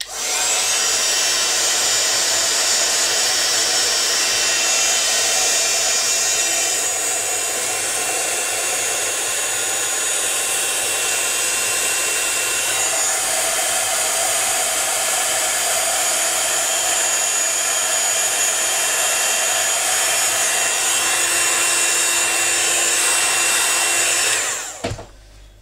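A heat tool blowing steadily to dry mixed media paint on a card background, a loud continuous hair-dryer-like whoosh and whir lasting over twenty seconds before being switched off abruptly at the end.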